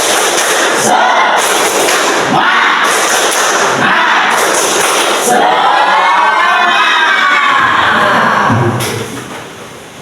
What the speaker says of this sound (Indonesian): mari kita bersama-sama tepuk semangat, siap?